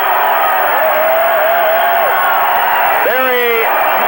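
Arena crowd of over 10,000 enthusiastic fans at a 1979 college basketball game, Indiana State at Southern Illinois, a constant loud roar of cheering and whooping, with a voice rising above it in places.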